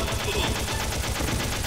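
Rapid bursts of gunfire from the video game Metal Gear Solid crack out in a fast, rhythmic string of close, loud shots with no pause.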